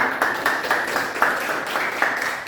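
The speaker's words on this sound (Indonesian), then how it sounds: "Oke, ya, tepuk tangan." Students in a classroom break into brief applause, a dense patter of many hands clapping at moderate loudness with no clear talk over it.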